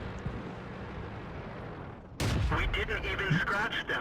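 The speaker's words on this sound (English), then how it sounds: "The shot flew a little bit high and went into the little viewport Commander Cupola thing on top of the IS-3" A tank gun fires in World of Tanks, aimed at an IS-3: a sudden sharp blast after a steady engine rumble, followed by ringing, crackling debris and reverberation.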